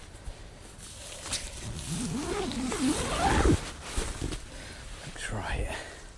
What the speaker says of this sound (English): Let's just zip this up